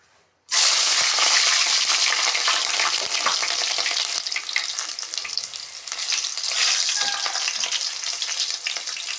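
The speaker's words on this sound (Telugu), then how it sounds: "ముందుగా ఆయిల్ వేస్తున్నానండి ముందు పచ్చిమిర్చి వేస్తున్నానండి" A sudden loud sizzle erupts as green chilies hit hot oil, then crackles steadily and continuously without letting up.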